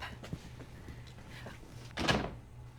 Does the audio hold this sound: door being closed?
yes